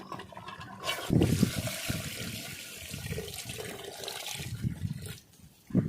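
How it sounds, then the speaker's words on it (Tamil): Water splashes and gushes steadily into a pot of partly cooked chicken for biryani for several seconds, a full pouring sound with some sloshing, then stops near the end. "இப்போ நாம் தண்ணி ஊற்றலாம்"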